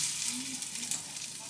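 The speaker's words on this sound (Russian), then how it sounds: "и выкладываем на горячую сковороду." Breaded meat patties hit a hot frying pan, a steady close sizzle and crackle of frying oil running throughout with no talking.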